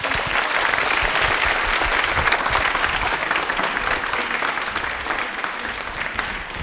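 A studio audience at a televised Indian Railways quiz show breaks into loud, sustained applause, a dense wash of many hands clapping at once that holds steady and tapers only slightly toward the end.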